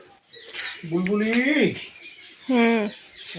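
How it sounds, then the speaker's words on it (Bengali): A bulbul gives a few bright, rising and falling whistled calls close by, two main phrases separated by a short pause, set against quiet household background. "বুলবুলি"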